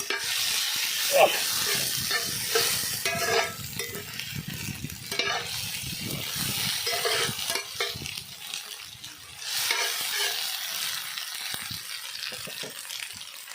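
Ginger and garlic sauté in a pan for a village-style quail pepper fry. The sizzle is close and steady, with repeated stirring scrapes and spatula knocks throughout and no talking.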